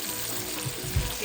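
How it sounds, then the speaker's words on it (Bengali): Ginger, garlic and onion fry in a pan for shrimp polao, making a brief, soft, even sizzle close by with a small clatter near the end. "এখানে আদা রসুন পেঁয়াজ দিয়ে অলরেডি এটাকে একটু ভেজে নিচ্ছি"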